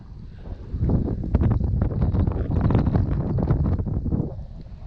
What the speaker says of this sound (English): It is ridiculously windy,